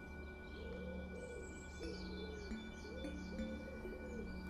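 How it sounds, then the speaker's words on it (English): Birds call among garden trees and shrubs, with soft repeated cooing like a pigeon or dove plus faint chirps, fairly quiet and steady against a gentle background hum. "Birdsong can be heard in the trees and shrubs all around the garden."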